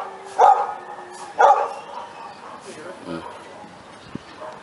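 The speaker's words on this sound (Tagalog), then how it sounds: "Ito naman yung asong tumatahol." Two loud dog barks about a second apart open the clip, followed by quieter scattered sounds and some faint talking.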